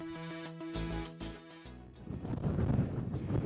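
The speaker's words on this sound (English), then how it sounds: "It's real windy, so be aware if you come up here." Strong gusting wind buffets the microphone up at the Wilcox Pass viewpoint, a rough, roaring rumble that swells and grows louder through the second half after a brief stretch of tonal sound at the start.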